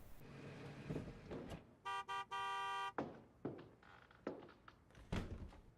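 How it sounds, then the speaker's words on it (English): A delivery truck arrives in the Nancy Drew game Alibi in Ashes, with a few dull door thunks and rumbles around a burst of three short horn toots followed by one longer honk, moderately close. "that sounds like the delivery truck again"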